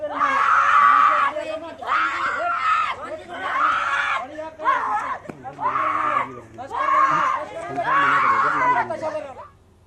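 Schoolgirls at a government school scream in suspected mass hysteria: loud, high, wailing cries in repeated bursts with short pauses between, several voices overlapping up close.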